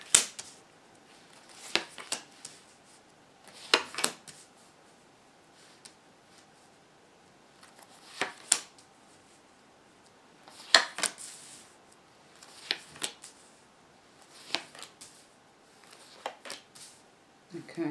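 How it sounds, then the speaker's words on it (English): Tarot cards laid down one by one on a table, giving soft, brief flicks and taps in irregular clusters, fairly close and quiet with pauses between placements. "Let's start putting the cards down, just making sure they're in the right position."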